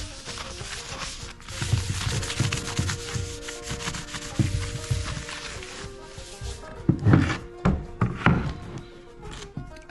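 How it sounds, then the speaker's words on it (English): Lacquered cherry burl wood being sanded in steady rubbing strokes, with a few louder thunks and knocks near the end as the piece shifts. "So I'm just gonna sand this down"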